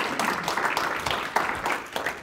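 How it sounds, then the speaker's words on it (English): Dense crowd applause at an industry talk, steady and fairly close, filling the short stretch without a break as an audience claps for speaker Kim Phillips of AGCO. "can we please give Kim a round of applause?"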